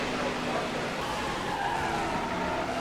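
A multi-car crash in the NASCAR 15 video game at Talladega, with tires skidding and engines roaring as several cars pile up. Dense, loud racing noise fills the whole stretch.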